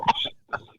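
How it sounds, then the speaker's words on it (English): A person coughs a couple of times, short rough bursts close by, separated by a brief silence. "Get the coughing off."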